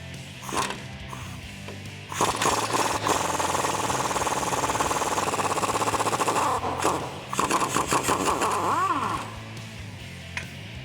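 A socket wrench, likely a power impact tool, is removing the track bar bolt on a Jeep Wrangler YJ. It gives one long, loud, close rattling burst, then a stuttering second burst with a few light clicks around it.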